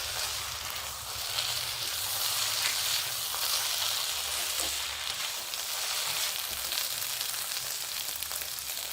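Carrots frying in a pan for a carrot curry give a steady, even sizzle that holds at moderate level throughout with no talking.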